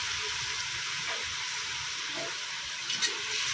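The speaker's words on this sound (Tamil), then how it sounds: "இதில் வந்து நம்ம கொஞ்சம் தண்ணி வந்து அளவு வச்சு ஊற்றிடலாம்." Water is poured from a measuring cup over raw rice in a cooking pot, giving a steady, close splashing pour with faint sizzle-like hiss throughout and a brief brighter splash near the end.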